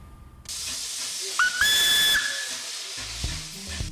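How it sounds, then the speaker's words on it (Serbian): Steam locomotive whistle from the Nostalgija narrow-gauge heritage train at Mokra Gora, a steady shrill tone over loud hissing steam that sounds close by and carries on for several seconds. "Uz ovaj pisak parne lokomotive"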